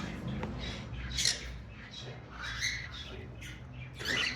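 A female pineapple conure, a full red factor bird, gives several sharp, shrill squawks in bursts against a quiet background with low room noise.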